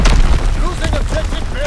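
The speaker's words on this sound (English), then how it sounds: "Incoming enemy artillery! Get to cover!" Heavy booms and rumbling in a video game battle as enemy artillery shells land, loud and dense, with a game voice calling out over the blasts.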